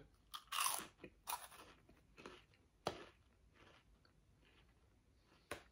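Close, crisp crunching bites and chewing of thin Gouda-flavoured cheese-filled wafer sticks, several sharp crackly snaps spaced irregularly with quieter munching between them.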